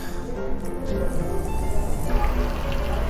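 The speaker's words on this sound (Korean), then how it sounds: "특히 여기 보이는 이 음료는 전 세계적으로 엄청난 인기를 끌고 있는 탄산" A zero-calorie carbonated cola fizzes softly and continuously, a close, low bubbling hiss.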